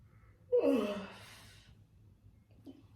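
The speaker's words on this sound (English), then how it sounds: "Now I want you to yawn." A person yawning once, a drawn-out breathy exhale that rises then fades over about a second, followed by a faint short breath, otherwise quiet.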